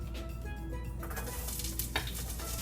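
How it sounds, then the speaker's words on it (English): Onions sautéing in a pan for Trini-style curry beef give off a steady close sizzle with occasional stirring scrapes and a brief louder crackle near the end. "we're going to start sauteing our onions and our garlics"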